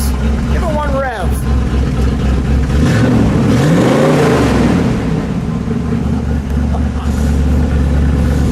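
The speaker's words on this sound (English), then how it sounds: "Give it one rev" A 1982 Pontiac Trans Am KITT replica gets a single throttle blip, the engine note rising and falling around a steady idle, close and loud, with people talking nearby.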